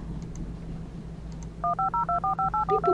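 Touch-tone dialing from a phone in the detective game Still Life 2: about ten short, clean beeps in a quick, even run, loud and close, following a stretch of quiet low hum.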